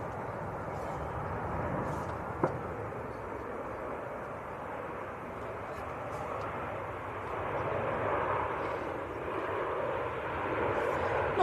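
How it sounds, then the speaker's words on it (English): A Sun Express Boeing 737 arriving on runway 05L at Manchester Airport, a steady distant jet engine roar that swells slightly, with people talking over it. "This is the Sun Express 737."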